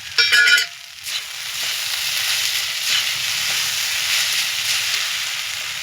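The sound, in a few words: stirring fried spice masala in pan for sabu pulao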